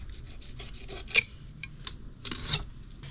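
A knife scrapes and rasps along the spine of a yellowtail while it is filleted, giving a series of close, gritty strokes with a couple of sharper scrapes and no talking.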